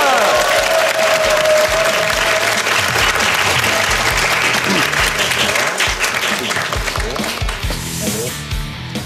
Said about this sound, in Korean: 여러분 큰 박수로 맞이해 주십시오.